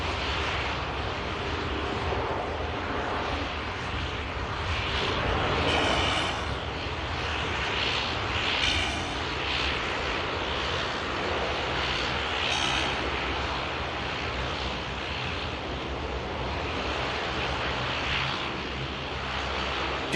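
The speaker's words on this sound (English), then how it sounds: "Aircraft about to land in from Djerba." An aircraft approaching to land at Manchester Airport, a broad steady engine roar that carries throughout at moderate distance.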